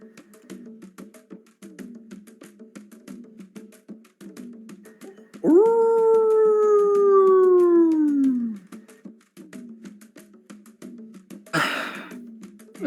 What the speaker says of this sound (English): Off in the distance, you hear the sound of a howl.